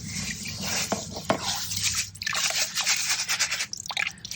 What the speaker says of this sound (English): I'm going to be taking this kitchen colander and scooping the sand up here and dumping it in this empty one